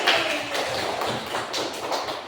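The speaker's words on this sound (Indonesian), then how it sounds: "tepuk tangan lagi" Schoolchildren clapping their hands together in a classroom, a short dense burst of claps with light rhythmic accents, moderately loud and close, with no talking over it.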